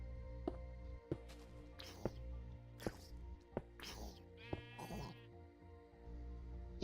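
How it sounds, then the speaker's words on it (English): Sheep bleating in the Minecraft video game, several wavering bleats spaced over a few seconds along with regular soft thunking clicks, heard fairly faint. "It sounds like a sheep or a goat of some sort."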